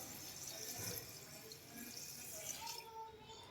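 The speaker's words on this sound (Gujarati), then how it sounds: "હવે તો આ બુડબુડા પાણી નાખી દઉં" Water pours steadily into a container, a continuous splashing trickle close by that thins out toward the end.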